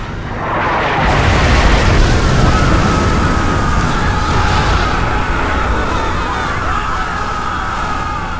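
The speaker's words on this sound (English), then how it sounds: "Launched our nuclear missile." Nuclear missile detonation in a military strategy game, a deep sustained roar that swells after the first second and rumbles on loudly for several seconds, with a high wailing siren-like tone layered over it.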